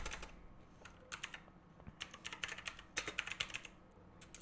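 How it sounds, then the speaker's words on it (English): Quick bursts of keystrokes clatter on a computer keyboard as a search phrase is typed into a Windows 11 start menu, close and clear, with short pauses between words and no voices. "go to the start menu and type control panel"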